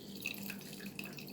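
Water trickles and drips over canned tuna as it is rinsed to wash off extra salt, a soft, steady splashing at close range with no talking.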